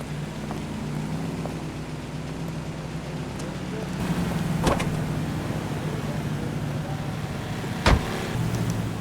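A car in the video game L.A. Noire drives along tailing a cab, its steady engine hum running throughout with a couple of sharp clunks and knocks partway through, under in-game talk.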